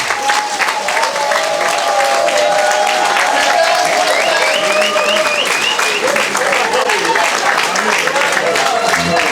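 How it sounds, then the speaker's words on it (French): Audience applause at an event for a group, dense and steady throughout, with tonal voices or music rising above the clapping. "Nous allons les applaudir vivement et les encourager."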